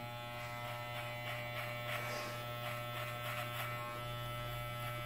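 An electric hair clipper set to a number 1 guard hums steadily while finishing a traditional side fade near the ear, a quiet, even buzz with a slight rasp as it cuts.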